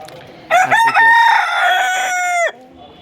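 A rooster crows once, close and loud, a long drawn-out cock-a-doodle-doo lasting about two seconds before cutting off sharply, with no talking.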